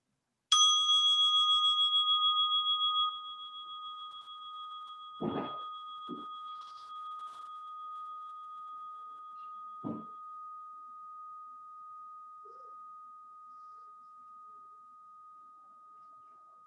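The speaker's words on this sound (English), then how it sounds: "I'm going to begin us with the sound of this bell" A meditation bell is struck once, ringing out clear and bright, then hums steadily as it slowly fades, with a few soft knocks in the quiet.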